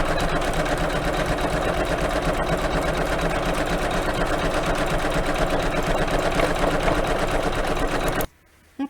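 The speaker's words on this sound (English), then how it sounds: "But I'm starting the embroidery machine." An embroidery machine stitches out a Sweet Land of Liberty pillow block with a steady, loud mechanical whir and rapid needle rattle, running continuously before cutting off abruptly near the end.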